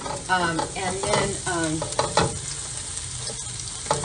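Plant-based Beyond Burger ground meat is broken up as it fries in a pan, a continuous close sizzle with scraping utensil strokes, while a voice speaks briefly at the start.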